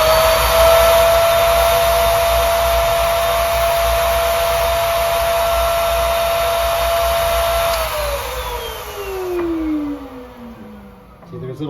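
An Okki Nokki record cleaning machine vacuuming a vinyl record, a loud steady high-pitched motor whine and suction roar that holds level, then winds down in pitch as the motor slows near the end.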